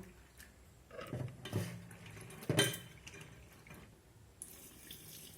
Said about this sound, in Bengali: এখন আমি এই ডালগুলোকে পরিষ্কার করে 2 থেকে 3 বার জল পাল্টে পাল্টে ধুয়ে নেব।